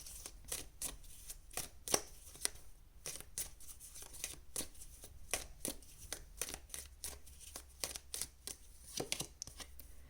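Tarot cards being shuffled for a Saturn transit reading: a continuous series of crisp riffling snaps and papery flicks in an irregular rhythm, close and fairly quiet, with no talking.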